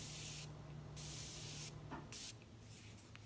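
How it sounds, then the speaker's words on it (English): Morphe Continuous Setting Mist is sprayed onto a face in three quick close bursts of fine hissing mist, with a short pause between each spritz and a quiet background hum. "Pull my hair back and spritz my face."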